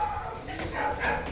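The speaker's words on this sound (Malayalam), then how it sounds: "പട്ടി കുരയ്ക്കുന്നു." A dog barks a few times in short yips and bow-wows, fairly close, mixed with voices.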